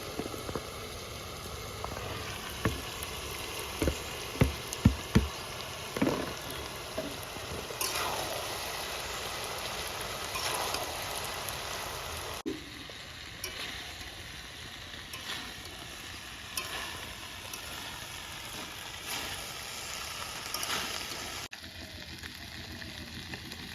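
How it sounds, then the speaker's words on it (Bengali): Pasta tipped into a pan for chicken pasta and left cooking, with a few sharp clatters and knocks early on, then a steady low bubbling and sizzling that carries on underneath at moderate level. "এবার দিয়ে দিচ্ছি পাস্তা।"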